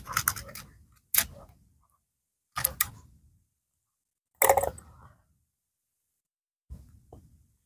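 A handful of sharp mechanical cracks from a PCP air rifle, each followed by a brief ringing decay, separated by silent pauses.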